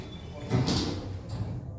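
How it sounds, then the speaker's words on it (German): ThyssenKrupp elevator doors at a Primark store in Münster sliding shut, a soft rumbling glide that swells mid-clip and eases off, faint against store background hum. "Aufzug ist da. Fahrtrichtung abwärts. Türe schließt."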